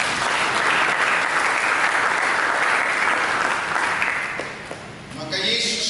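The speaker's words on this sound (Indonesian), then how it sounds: "Mari sambut dengan tepukan." A church congregation claps together during a sermon, a steady, full burst of applause that thins near the end as a voice begins speaking over it.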